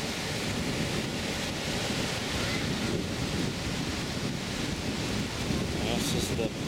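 Wind buffets the microphone over surf at Playa Potrero beach in Costa Rica, a steady broad roar of wind and breaking waves, constant and fairly loud with no talk.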